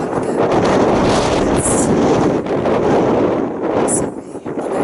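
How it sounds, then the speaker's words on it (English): Strong February wind blows across an allotment, a steady, loud, roaring buffet with brief dips that fills the whole stretch. "Sorry, I know it's really windy."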